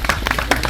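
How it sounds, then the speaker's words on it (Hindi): A brief burst of loud audience clapping, a handful of sharp close claps in under a second. "तालियां भाई, जोरदार तालियां।"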